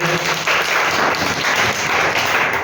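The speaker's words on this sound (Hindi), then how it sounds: "तालियां बजाओ।" Children in a classroom during a multiplication lesson clap together in a burst of applause. The dense, continuous patter is loud and close and lasts the whole moment, with no talking.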